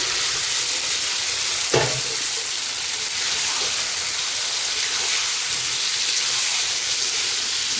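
Eggs and potatoes go into a pan of sizzling, oil-separated fried masala for egg curry; a sharp splash-like burst lands early, then a continuous close hiss of frying carries on with no talking.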